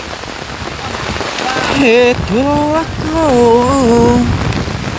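Steady rain pours down in a forest, a dense hiss of falling drops that runs throughout while a voice sings over it.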